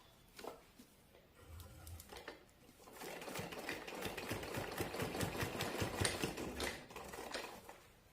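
Sewing machine stitching across a folded saree lace border, a few short bursts of needle clatter followed by a long, steady, rapid run of stitching at close range, with no talking.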